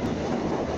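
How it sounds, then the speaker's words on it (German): An U7 subway train rumbles steadily inside an underground station as it arrives, a low continuous roar that fills the space. "Ihr hört ja die U-Bahn schon."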